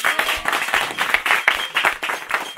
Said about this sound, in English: So, clap for Jono.